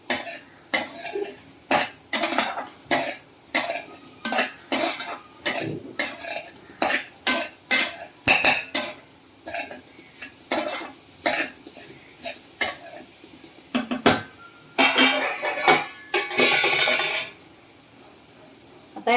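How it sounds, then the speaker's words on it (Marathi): Sugar is stirred into a grated coconut mixture in a pan over low heat, producing a rhythmic series of scraping strokes, roughly one every second, with a louder, denser burst of stirring near the end. "साखर अशी छान मिक्स करून घ्यायची आहे."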